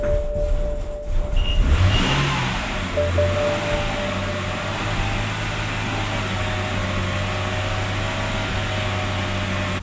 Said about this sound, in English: So let's see if the car fires up and if it leaves.